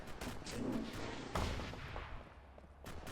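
Several sharp, loud blasts and booms burst over a dense, noisy soundscape in the official Skibidi Toilet video game, with rumbling aftershocks trailing between them.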